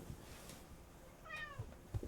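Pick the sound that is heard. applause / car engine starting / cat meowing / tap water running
cat meowing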